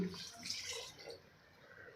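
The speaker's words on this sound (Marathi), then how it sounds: "आता यामध्ये आपल्याला घालायचं आहे एक ग्लास पाणी" A glass of water is poured into a pot of spicy chicken curry, a soft, brief splashing trickle close by that fades out after about a second.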